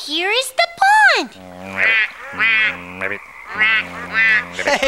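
Nasal, honking duck-like quacks come in repeated bursts, loud and close, with a squeaky sliding call at the start.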